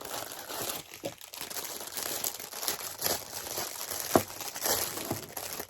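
Plastic packaging is handled up close, giving irregular crinkles and crackles with a few sharper crunchy bursts, with no talking.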